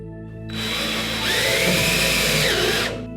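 Power driver sinking drywall screws into plasterboard on a stud wall, fitted with a depth gauge: a steady, close whine that starts abruptly, rises slightly in pitch as the screw bites, and runs continuously before cutting off, with no talking.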